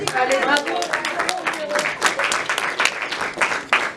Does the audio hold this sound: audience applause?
yes